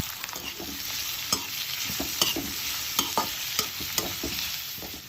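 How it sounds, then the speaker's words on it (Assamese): Sliced onions frying for biryani in hot oil, a steady sizzle broken by repeated scraping clinks of a spoon stirring the pan, close and without talk. "এইফালে মই প্ৰথমতে পিঁয়াজখিনি ভাজি লৈছোঁ, কাৰণ বিৰিয়ানীৰ মেইন ইনগ্ৰিডিয়েণ্টছেই হৈছে অনিয়ন।"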